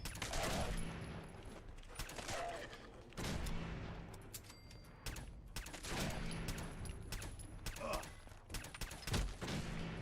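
Gunfire in Fallout 4 against ghouls: repeated bursts of shots with mechanical clacks between them, spread across the whole stretch in uneven clusters, moderately loud and close, with no talk over them.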